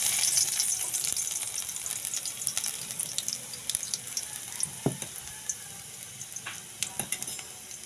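Chopped garlic frying in hot cooking oil for an ampalaya (bitter gourd) sauté: a steady close hiss and crackle of sizzling oil with a few scattered stirring clicks, and no voices.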